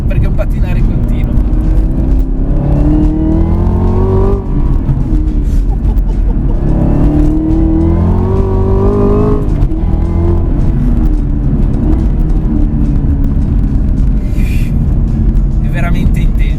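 A 650-horsepower Chevrolet Camaro ZL1 1LE on non-semi-slick tires driven hard on a track, its loud engine rising in pitch through repeated accelerations, heard under continuous talk.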